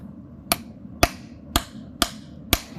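Five sharp metallic strikes of a hammer driving a chisel into a soft wood stump, evenly spaced about half a second apart, close and ringing briefly over a low background rumble.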